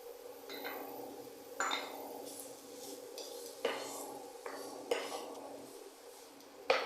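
Prawns frying with onions in a pan, a soft background sizzle punctuated by sharp metallic spoon scrapes and clanks against the pan at irregular intervals, close and fairly quiet.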